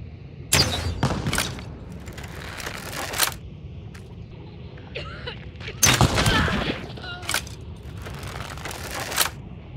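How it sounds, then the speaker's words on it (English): Crossbow decoy bolts fired in Hunt: Showdown, heard as a few sharp, loud snapping releases in separate bursts, the first pair close together and another burst several seconds later, with quieter clatter in between. "Let's shoot some crossbow decoys."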